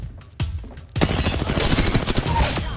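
Rapid gunfire erupts in an online shooting game, a few isolated shots followed by a dense, continuous fusillade of loud cracks and booms.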